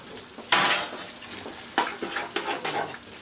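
A clean spoon scrapes and clinks in a pan while scooping a teaspoon of butter ghee for a very hot curry, giving a few sharp metallic scrapes with quiet pauses between them, close up and with no talking.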